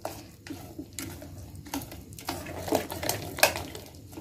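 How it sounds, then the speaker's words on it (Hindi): A spoon stirs vegetable appam batter in a bowl, giving soft, irregular scraping and clinking taps close by, with a few sharper knocks against the bowl's side; no one speaks. "अभी मैं मिक्स कर लूंगी इसे बहुत अच्छे से मिक्स करना है"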